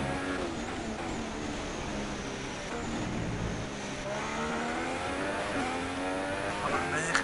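Formula 1 car in a racing video game held at full throttle through a corner, a continuous high, buzzing engine whine with shifting pitch and faint tire squeal, steady and loud throughout while someone talks over it.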